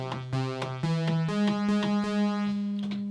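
A plain synthesizer patch, the untreated starting tone before any shaping, plays a short sequence of sustained harmonic notes with stepwise pitch changes and soft attacks, alone and at steady moderate level.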